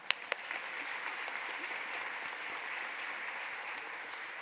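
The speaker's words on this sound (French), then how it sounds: "On va l'applaudir." Audience applause at an awards gala, steady even clapping from a crowd heard at moderate distance, with a couple of sharp near claps at the start.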